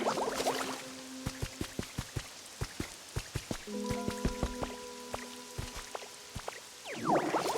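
Rain falling in a video game, with a steady patter of drops and scattered sharp individual drips hitting surfaces, moderately close and alone.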